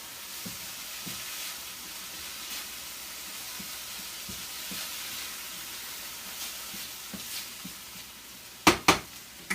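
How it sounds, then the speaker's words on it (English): Salted food sizzles in a pan with a steady soft hiss, and a few scattered faint stirs are followed by several sharp, louder knocks of a utensil against the pan near the end. "Stir that up."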